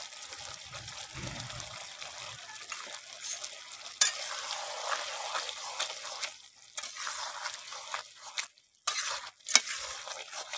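Tomatoes and a pre-fried spice mix stirred into a bubbling Bengali fish, potato and aubergine curry, a steady close sizzle with scraping stir strokes, brief pauses and a sharp clatter midway, no talk.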